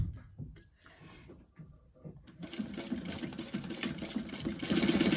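A sewing machine stitches a bag lining during zipper installation, running in a steady mechanical whir that starts faint and broken, then grows louder and continuous about halfway through.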